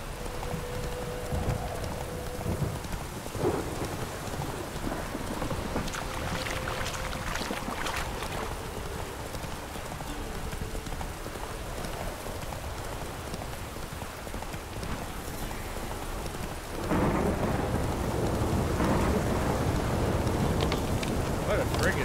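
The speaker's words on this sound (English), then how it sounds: "What a friggin' storm." Heavy rain pours steadily through a stormy night in The Witcher 3: Wild Hunt, with occasional brief voice-like sounds, swelling louder near the end as the downpour intensifies.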